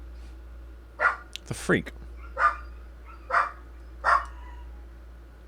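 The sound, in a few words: dog named Batman barking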